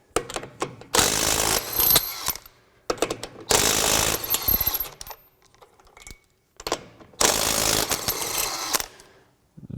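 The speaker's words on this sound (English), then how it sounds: "we'll take off 3 lug nuts and just see if we hear any difference in the speed" A Craftsman V20 brushless 1/2-inch drive impact wrench hammers lug nuts off in three loud, rapid rattling bursts of about one and a half seconds each. Short quiet pauses and small clicks fall between the bursts.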